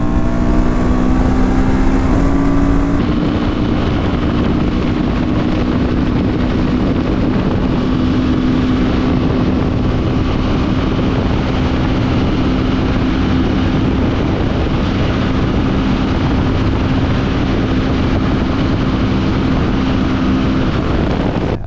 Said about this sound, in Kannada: ಓಪನ್ ಮಾಡಿದ ತಕ್ಷಣವೇ ರಪ್ ಅಂತ ಗಾಡಿ ಪಿಕಪ್ ತೊಗೊಂಡು ಒನ್ ಫಿಫ್ಟಿ ಔಟ್ ಆಗುತ್ತೆ